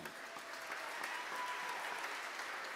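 An audience at a Christmas jazz concert claps for a baritone saxophonist, a steady, even wash of applause from a full room, held at a moderate level without pause.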